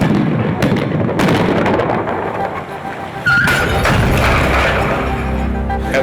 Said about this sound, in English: When we continue the action, we'll be detonating these